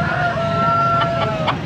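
Young stag rooster for sale at a poultry market in Angeles, Pampanga, clucking continuously with a few short higher calls near the end, close by and fairly loud over steady background noise.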